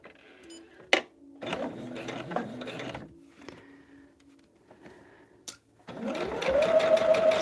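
A sewing machine stitches pinned quilt pieces for a star table runner, with scattered clicks and handling of fabric before the motor starts up loudly near the end.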